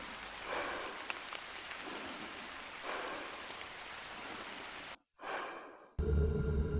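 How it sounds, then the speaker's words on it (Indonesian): Light rain falls steadily in a soft, even patter for about five seconds, then drops away into a brief breathy rush and a low hum. "Cuma hujan tipis"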